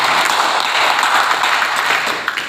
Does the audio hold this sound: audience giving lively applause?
yes